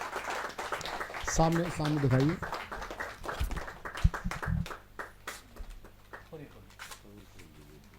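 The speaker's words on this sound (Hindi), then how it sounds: "जोरदार तालियों के साथ उनका लोकार्पण हो रहा है।" Clapping from an audience at a book launch during a Hindi poetry gathering (kavi sammelan), scattered hand claps rising and falling under a voice speaking over a microphone.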